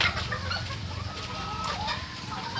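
A chicken clucks in the video game Free Fire, with steady bird calls over a dense background of game noise.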